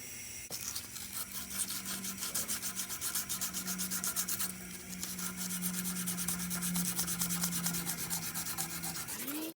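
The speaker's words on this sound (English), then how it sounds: "We need to sand this down first because my bar is worse looking." A bike bar on a Collective Bikes C2 being sanded down by hand, giving a steady, close rhythm of rapid scratchy rubbing strokes that runs continuously for the whole stretch, with no talking.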